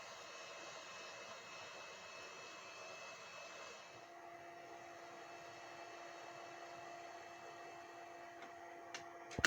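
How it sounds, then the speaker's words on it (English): A steady, quiet blowing hiss of a hot air tool preheating a large BGA chip on a PS3 Slim board runs throughout with faint electronic tones, ending in a couple of small clicks. "This is a large BGA chip and I am carefully preheating and lifting it with a vacuum tool."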